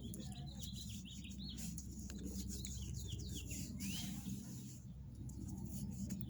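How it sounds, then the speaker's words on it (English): Birds chirp and trill repeatedly in the background over a low, steady rumble of ambient noise. "Can you hear the beautiful birds in the background?"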